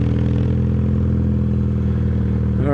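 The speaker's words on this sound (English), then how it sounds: "All right, so second gear up this thing." A 1977 Yamaha XS650 motorcycle climbs a steep hill in second gear, its engine a steady, close, buzzing drone that holds constant before the revs rise sharply at the very end.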